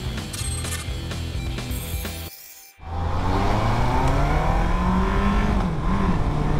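A 1998 Yamaha R1 motorcycle clunks into second gear, a mechanical knock heard close up against a steady loud engine drone that drops briefly and then surges back as the bike pulls away.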